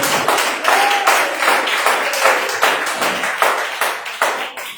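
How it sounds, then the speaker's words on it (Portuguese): Congregation at a church evening service clapping for Jesus, a dense, steady patter of many hands with rhythmic swells, close and sustained throughout. "Palmas que adora Ele nesta noite"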